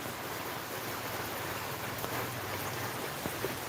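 Heavy rain pouring steadily, a dense, even hiss with a few faint drips and knocks standing out.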